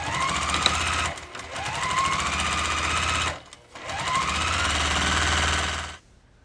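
A sewing machine runs steadily to stitch the side and bottom seams of a puffy lined tote bag, a loud close mechanical whir with two brief pauses before it stops.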